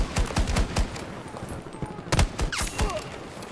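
Bursts of automatic gunfire crackle during Battlefield 2042 gameplay, rapid shots in short volleys that shift between nearer and more distant, with no speech over them.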